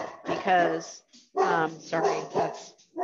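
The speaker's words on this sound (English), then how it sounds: "we have someone at the door and that's my dog alerting us." A pet dog barks several times at someone at the door, sharp close barks mixed in with a person talking over them.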